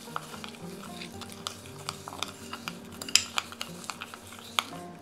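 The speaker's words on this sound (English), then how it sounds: "I will mix this a bit with sugar." Yeast being mixed with sugar in a bowl, giving soft, close scraping and light tapping of a utensil against the bowl, quiet and steady with a few sharper clinks.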